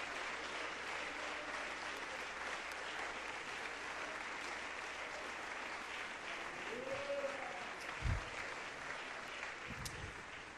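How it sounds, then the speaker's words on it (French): A church congregation gives a sustained ovation, steady applause filling the room for about ten seconds at an even level, with a few faint voices beneath. "faisons une ovation au Seigneur"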